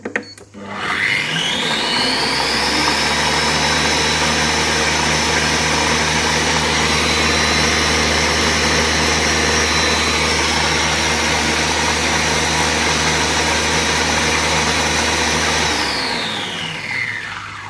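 A Compact Cook Pro food processor runs steadily at speed 12, blending cucumber and mint into a cold soup. The motor whirs loud and close and unbroken for about fifteen seconds, then spins down, with no talking.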